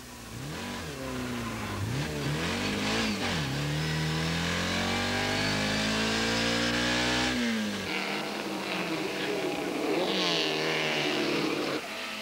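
Vintage race cars, a Porsche 356 and an Austin-Healey, racing through a bend at a 1990 classic event, engines revving loud and close with rising and falling pitch as they pass, the roar continuing alone without speech.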